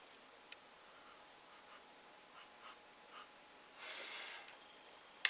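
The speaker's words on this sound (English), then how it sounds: "Let's give it a sniff." A single quiet sniff at a glass of cold homebrew pale ale, one soft breathy inhale near the middle, preceded by faint scattered ticks in an otherwise still room.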